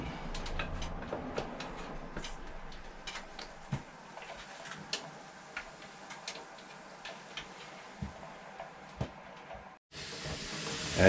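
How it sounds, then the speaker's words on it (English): A pressure canner cooking turkey hisses steadily with steam, and a regular ticking or rattling weight sounds over it, both close and moderate in level, ending in a louder rush of steam, with no talking. "As you can hear, our pressure canner is going."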